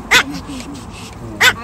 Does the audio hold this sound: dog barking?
yes